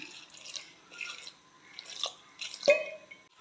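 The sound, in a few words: water being added to curry in a pot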